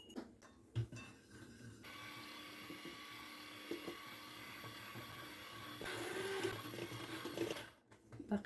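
Cake batter being mixed with a motorized mixer or blender, the flour, oil and milk whirring in a steady, continuous drone that grows louder partway through, then cuts off near the end.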